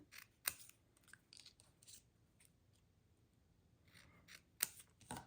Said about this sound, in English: I'm going to cut it in half, and then each of these I'm going to cut in half again.